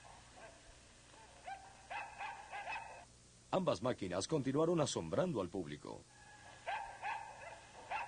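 The 1940 robot dog built as a companion to the Electro robot gives a run of loud, wavering yips and barks in the middle, with someone narrating before and after.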